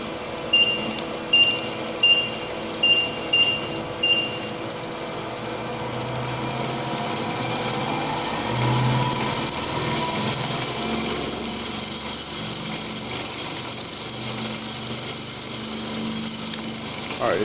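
A rotor machine spins up to 1500 RPM with a steady mechanical whir that swells in loudness partway through, after a short series of faint beeps at the start.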